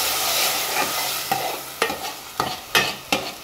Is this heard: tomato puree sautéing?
yes